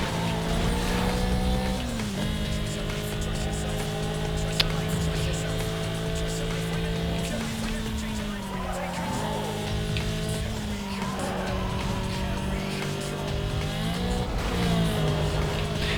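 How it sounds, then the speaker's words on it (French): A modified Volkswagen racing in Need for Speed: Most Wanted, its engine whining steadily with repeated pitch drops at gear shifts and climbs as it accelerates, loud throughout. "Ça c'est tout de même incroyable qu'une Volkswagen avec un moteur modifié puisse se dépasser une voiture de sport quoi."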